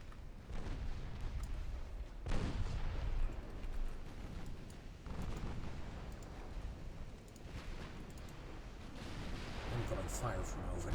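Naval artillery fire in the warship game Ultimate Admiral Dreadnoughts: a dense, rumbling wash of distant muffled booms and blasts rolls on continuously, swelling in several heavier bursts, with voices murmuring faintly beneath.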